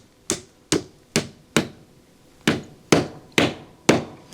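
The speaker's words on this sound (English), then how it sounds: "we're going to hammer it in here." Eight sharp, close wooden strikes ring out as a hammer drives a wooden wedge into the handle of a large ball peen hammer, in an uneven, steady rhythm with short pauses and no speech.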